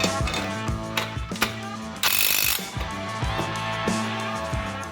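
A Milwaukee power drill drives a screw while installing a hardwood lumber rack, its ratcheting clutch clicking in short repeated bursts near the microphone, with a brief louder whir in the middle.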